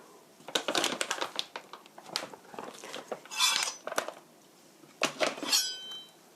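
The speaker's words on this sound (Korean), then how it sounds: "이제 채소를 썰어 보겠습니다" Vegetables including onion are sliced with a knife for a chicken rice bowl, producing clusters of sharp, close cutting clicks and taps against a board, separated by short pauses, with no talking.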